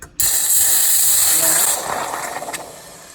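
Steam hissing as cold water goes into a hot pot for shrimp stock: a sharp burst starts abruptly, holds steady for over a second, then fades with some faint clinks as it dies away.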